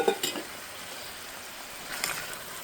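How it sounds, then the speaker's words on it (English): Broccoli added to a pasta and vegetable mixture in a pan, with a soft sizzle and a few light clatters of stirring and utensil against pan, close and quiet. "To this delicious mixture, I'm going to add my broccoli"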